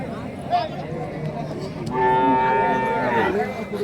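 Cattle low and moo amid the murmur of a crowded cattle market in Kelamangalam, Tamil Nadu, with people talking nearby throughout.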